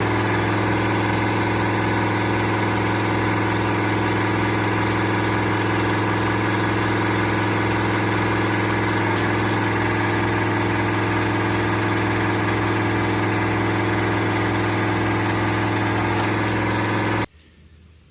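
A tractor engine idles and drones steadily with a constant low hum and vibration, powering a Wolfe Ridge VersaSplit log splitter through a full cycle, then cuts off abruptly near the end.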